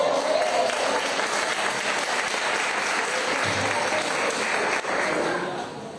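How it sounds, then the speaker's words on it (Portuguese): A church congregation applauding in praise, a dense steady wash of clapping from a crowd that carries evenly and fades slightly at the end. "aplauda ao Senhor"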